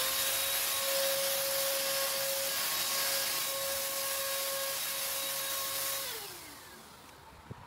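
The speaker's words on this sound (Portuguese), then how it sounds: "vou aplicar um pouco aqui para não ficar esse barulho da pistola" A spray gun puts down textured coating on a floor with a loud, steady hiss and a thin whine. It fades sharply toward the end, followed by a single small knock.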